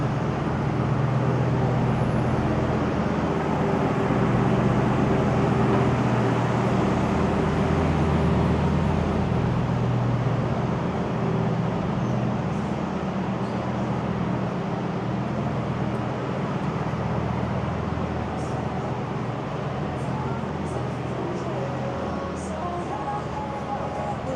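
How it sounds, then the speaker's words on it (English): Night-time traffic rumbles through Toronto's financial district downtown, a continuous broadband roar of passing cars and heavier vehicles that stays fairly even throughout, with faint higher clicks and tones scattered near the end. "So much traffic for a night in the financial district."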